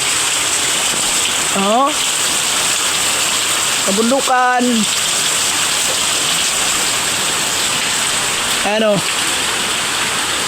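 Steady, loud rush of water at Uwan Uwanan falls fills the whole stretch without a break, while a few brief voices speak and exclaim over it.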